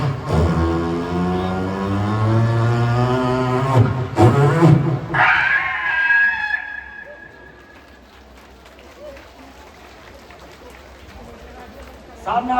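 A voice mimics a speeding car braking hard for a child in the road, giving a long rising engine-like drone followed by a sharp screeching squeal that fades, with spoken narration around it.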